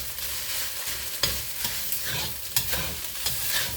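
Fried rice with prawns, eggs and dark sauce being stir-fried in a pan: continuous sizzling with repeated scraping and tossing strokes of a spatula at an irregular rhythm, close and fairly loud, with no talking.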